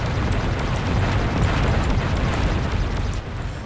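Mega missile explosions in the Descent video game, a loud, continuous rumbling blast with crackling bursts layered on top, easing slightly near the end.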